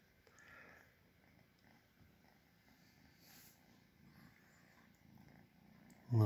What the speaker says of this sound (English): You are a purr monster.